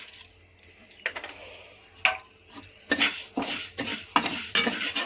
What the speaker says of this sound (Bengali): কলাই ডালটা একটু ভেজে নিব।